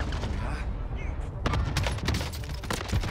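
Bursts of Oden rifle gunfire in the Warzone video game, a rapid rattling string of shots starting about halfway through after a quieter patch of game noise, fairly close and sharp, with a player's voice nearby.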